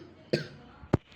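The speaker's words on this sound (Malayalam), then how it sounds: "ചുമ വന്നു ഗൈസ്." A single sharp cough bursts out near the end, with a smaller throaty sound a moment earlier, close and fairly loud against a quiet room.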